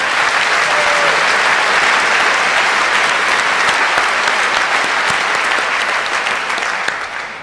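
A large audience at the 24C3 congress closing event applauds the NOC team with dense, loud, sustained clapping that carries on steadily and tapers slightly at the end.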